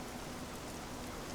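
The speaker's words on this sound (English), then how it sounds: "Wales in the rain, as it was meant to be" Steady rain in the Train Simulator 2018 game, set in Wales, hisses as a constant, fairly faint wash of drops with no talk or other sounds over it.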